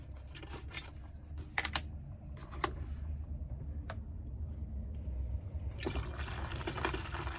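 Lukewarm water poured into a container holding dry granules makes a steady wet rushing, broken by small clicks and ticks of the container, close and fairly quiet, with no talking.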